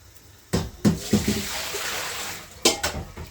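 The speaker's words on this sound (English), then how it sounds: "Okay, so we're going to go ahead and get rid of this water here." Water being drained from a cooking pot into a kitchen sink, with a few sharp metallic clanks of the pot at the start and end around a steady splashing pour.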